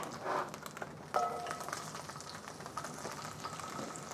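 Onions fry in oil in a pan over medium heat with a soft, continuous sizzle and crackle, plus a brief clink of a utensil near the start.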